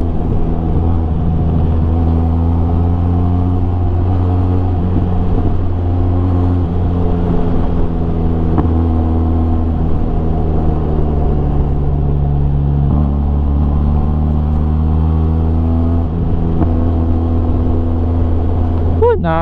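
A Benelli TRK 502 adventure motorcycle rides steadily, its engine droning close and loud with a constant low hum and wind rush, the pitch wavering gently as it leans through turns.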